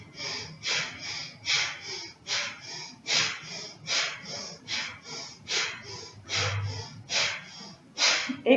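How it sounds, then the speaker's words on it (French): Breath of fire, the rapid yoga breathing exercise, performed close by: a steady string of quick forceful nasal exhalations, about two per second, sharp and breathy, with no talk over them. "On reprend la respiration du feu."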